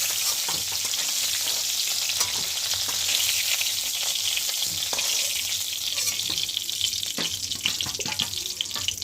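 Cauliflower pieces fry in oil in a pan, producing a dense, continuous close sizzle with scraping and clatter from turning and lifting the pieces out throughout.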